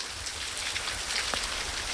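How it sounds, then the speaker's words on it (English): Light rain falls steadily at a Wisconsin state park campground, a soft even hiss of drops with a few faint individual taps, close and continuous. "It's still raining here now"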